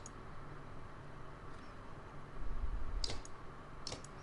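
A few soft computer mouse clicks while selecting heroes in The Banner Saga 2, faint and brief over a steady low background hum.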